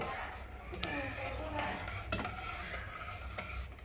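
Semiya kesari with sugar being stirred in a pan, steady scraping and rubbing of a spoon against metal with occasional light clinks, close and continuous.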